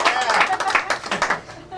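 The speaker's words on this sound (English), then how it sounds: "Give them a round of applause." Spectators at a magic show clap for volunteers, a short burst of lively hand clapping from a small crowd that thins out within two seconds, with voices mixed in.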